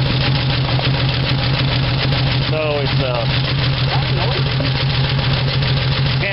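A 1975 Dodge D100 pickup's Slant 6 engine idles roughly with a steady, loud knocking drone and possible exhaust leak or lifter tick, while someone talks over it.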